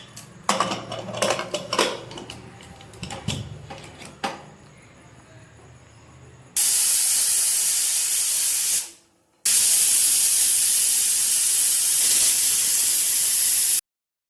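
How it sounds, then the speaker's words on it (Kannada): A pressure cooker of veg pulao lets out two long, loud steady hissing whistles with a brief gap between them, after a stretch of pots, cutlery and kitchen clatter. "ಒಂದು 3 ವಿಸಿಲ್ ಇದು ಕುಕ್ ಮಾಡ್ಕೊಂಡು ಬಿಡೋಣ."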